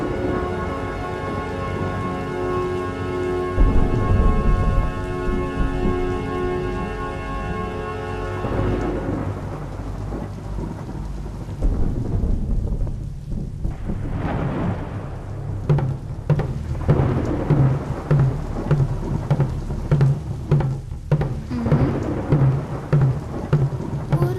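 Rain pours down steadily during a thunderstorm, with a loud rumbling thunderclap early on and heavy rainfall hissing and pattering on surfaces afterward.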